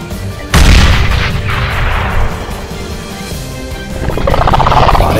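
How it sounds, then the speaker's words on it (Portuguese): A grenade goes off in the game Brink as a sudden heavy boom, followed by a rumbling, crackling tail and a second swell of noisy blast texture near the end. "Isso é só uma granada para assustar o lagarto. Fiquem para trás. Vou lançá-la."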